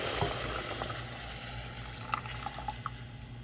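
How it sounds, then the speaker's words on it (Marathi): Hot milk poured into roasted rice in a pan for kheer, giving a soft steady sizzle and bubbling with a few small pops, fairly quiet and close. "तर आता मी ते दूध टाकून घेते"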